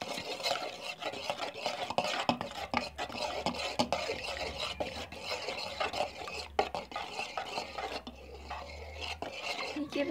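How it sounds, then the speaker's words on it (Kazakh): A second egg being beaten into runny honey cake batter, a steady stir with scraping and clinking against the bowl, continuous and close, with no talking. "Енді екінші жұмыртқамызды жақсылап араластырамыз."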